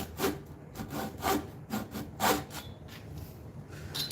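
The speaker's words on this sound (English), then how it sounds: "we're just gonna have to sand that bad part out." Damaged wood being sanded by hand, rhythmic back-and-forth rasping strokes, about seven close scraping passes with brief pauses between them, no voices.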